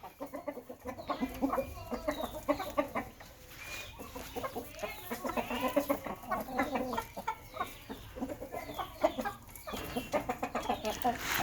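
Gamecocks with padded spurs sparring close by, with repeated scuffling flaps and thumps mixed with clucking and short squawks, continuous and busy throughout.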